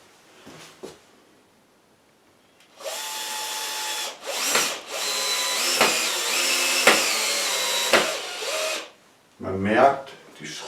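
A power screwdriver drives a Phillips screw into a wall dowel in several whirring bursts of varying pitch, separated by short pauses.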